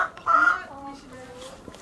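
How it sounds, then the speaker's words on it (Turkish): Chickens at a farm in Karadeniz Ereğli, Turkey, giving a few short close clucks and a drawn-out call, with faint voices nearby. "Horoz mu tavuk mu?"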